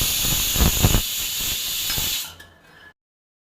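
A pressure cooker with potatoes inside lets out a loud, steady hiss of steam for about two seconds, then cuts off abruptly, leaving faint clatter before silence.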